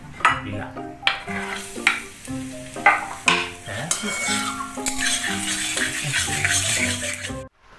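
Nasi goreng fried in a pan with a metal spatula, rhythmic scraping and clanking strokes over a steady sizzle, close and loud, with a brief pause at the end.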